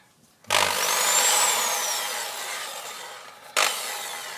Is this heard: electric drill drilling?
yes